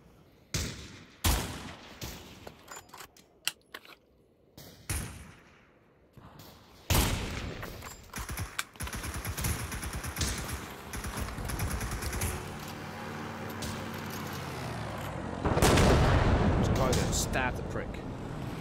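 Gunfire from a player's guns in the Pavlov VR shooter, with sharp single shots and short bursts over a rumbling battlefield background, close and loud at moments, while people talk throughout.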